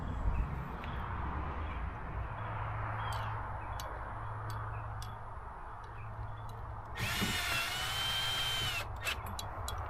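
A power drill drives self-tapping screws into a boat, whirring faintly in the distance with light ticking, then a brief louder high-pitched whine near the end against outdoor background noise.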